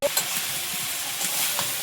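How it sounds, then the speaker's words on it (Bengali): Shrimp and vegetables stir-fry in a pan during outdoor cooking in the Sundarbans, giving a close, steady sizzle with soft scraping stirs throughout. "চিংড়িটা হালকা নেড়ে ছেড়ে নিয়ে এবার বরবটিটা দেবো।"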